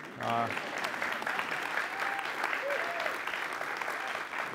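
An audience applauds at an arts summit, a dense, steady wash of many hands clapping throughout, with a brief voice just at the start.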